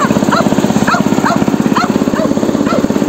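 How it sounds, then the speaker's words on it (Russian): Dogs barking outdoors near an idling vehicle engine, a run of regular barks spaced about every half second over a loud, steady engine rumble, with no talking. "Так, собаки."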